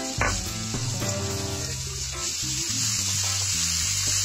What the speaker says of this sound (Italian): Passato un paio di minuti, è ora di aggiungere la zucca.